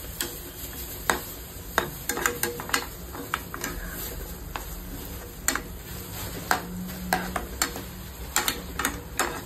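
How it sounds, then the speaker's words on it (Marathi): Ingredients are stirred and mixed in a frying pan, with a steady run of close scraping clicks from the utensil against the pan over a soft sizzle, no talking. "चांगलं एकत्र करून घेणार आहे आता"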